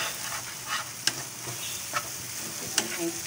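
Egg mixture frying in a pan while being stirred for a children's breakfast, a steady close sizzle with a few sharp scraping clicks of the utensil against the pan.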